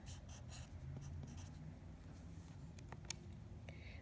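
Numbers being written by hand with a pen on paper, faint scratchy strokes in short bursts close to the microphone, with soft sounds from the surroundings in between.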